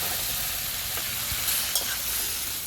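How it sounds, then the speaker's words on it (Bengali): Vegetables fry in spiced oil left over from frying fish while being stirred for a home-cooked curry, giving a steady, moderately loud sizzle with occasional scrapes of a spoon against the pan. "এখন আমি সবজিটাকে ভালো করে মশলার মধ্যে কষিয়ে নেব"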